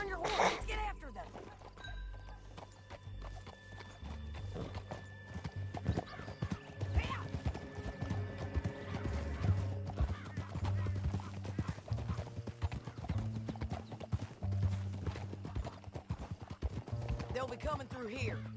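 Horses gallop in Red Dead Redemption 2, their hooves beating a rapid, continuous clip-clop with an occasional whinny. Voices and a busy layer of game sound run underneath.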